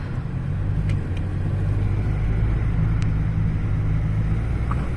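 Steady road traffic in France, the low drone of cars rolling past continuously at moderate loudness with a broad rumble and no voices, a few faint higher ticks scattered over the hum.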